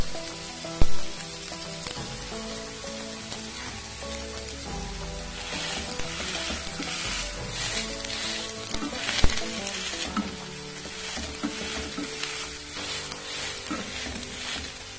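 Homemade ground beef patties sizzle and fry steadily in a nonstick frying pan, a dense continuous crackle with occasional sharper pops, close and fairly loud with no talking.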